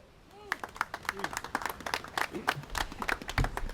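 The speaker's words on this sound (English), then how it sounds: "I think we ought to give up a big round of applause for the mayor" Scattered audience clapping at an outdoor Memorial Day community event in Louisville, starting after a brief pause and building into irregular claps of moderate loudness, with some voices mixed in.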